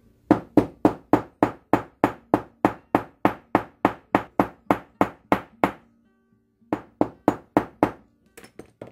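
A hammer chases metal paddle earrings from the tip inward with about twenty sharp, evenly spaced taps up close, pauses briefly, then strikes a few more.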